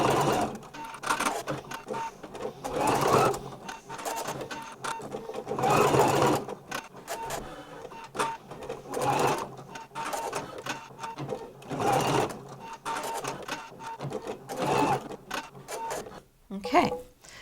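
An embroidery sewing machine stitches a tiny detail on berries on a sparkle tote bag, running in rapid mechanical bursts that start and stop repeatedly, steady and close.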